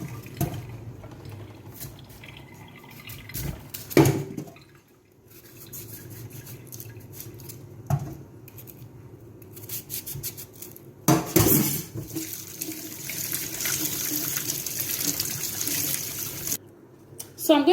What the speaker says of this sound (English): I'm going to be washing my unyaknya with sponge, no soap please